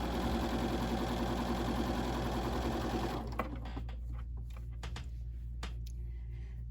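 A domestic sewing machine stitches quilt block seams, running steadily and loud for about three seconds before stopping, after which only faint handling noises and fabric rustles remain.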